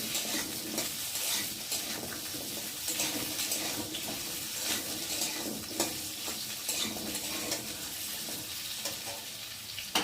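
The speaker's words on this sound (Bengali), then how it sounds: "একটু ভালো করে নাড়াচাড়া করে আলুগুলোকে একটু লাল লাল করে ভেজে নেব।" Potatoes being stirred and fried in a pan, turned until reddish-brown, with a steady close sizzle and scraping stirs running throughout at moderate level.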